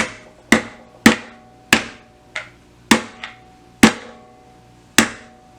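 A 3D printed part is hammered into a whiteboard mount: about eight sharp, crisp hammer strikes land in a loose, uneven rhythm, each ringing briefly and decaying quickly, close and clear with no talking.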